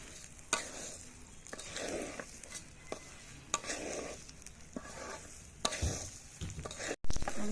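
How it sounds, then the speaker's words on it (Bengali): Washed rice frying for chicken biryani, a steady soft sizzle with stirring scrapes and occasional clinks of a utensil against the pot, moderately quiet and without talk. "চালটা আমি ভেজে নেব।"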